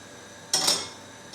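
Butter dropped into a pan on a cooker gives a single brief clatter and sizzle burst, moderately loud and close, that fades over about half a second against a quiet background.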